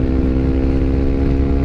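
A motorcycle fitted with an FMF racing exhaust idles or cruises nearby, a loud, steady, buzzing engine drone with a strong throaty tone throughout, no voices over it.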